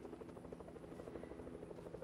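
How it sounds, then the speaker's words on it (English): Steady droning engine of an aircraft passing over during a battle-royale shooter match, a continuous buzzing hum holding at the same loudness throughout with no talk. "we got a plane coming from"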